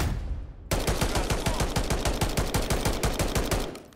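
Rapid automatic gunfire from a Search and Destroy match in a first-person shooter video game, a loud sustained burst of evenly spaced shots after a brief quiet start, with no talking.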